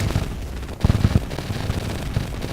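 Rapid, dense gunfire from Hyperion bullets in the video game Terraria, a continuous loud barrage of overlapping shots with low thumping bursts.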